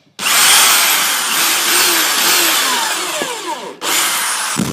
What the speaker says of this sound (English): This is just showing how I drill it